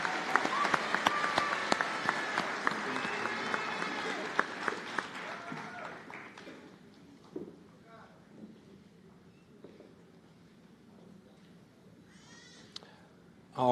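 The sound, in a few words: audience applause at white coat ceremony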